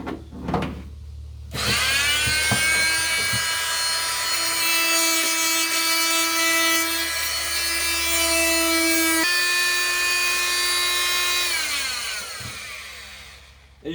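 A blade scrapes away at a Dodge car window fill strip, a continuous rasping, squealing drag with sustained tonal whine that runs steadily for about ten seconds before easing off, close and loud with no talk.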